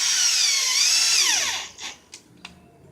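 Power drill driving screws into a wooden fence picket, a loud close high whine that spins down and stops, followed by a few short knocks and clicks.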